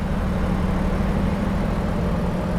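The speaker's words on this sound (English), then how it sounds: "See what the engine sounds like as we get it going here." Mack truck engine in American Truck Simulator running steadily, a loud, continuous low rumble with an even drone and no change in pitch.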